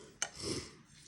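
A knife slices grilled lamb cutlet away from the bone, giving one sharp tap at the start and then a short, soft scraping rasp, quiet and close with no talking.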